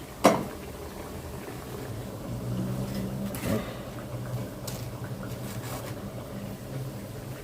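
Potatoes, noodles and a little carrot frying in oil give off a soft, steady bubbling sizzle, fairly quiet, with a couple of brief clunks from cookware.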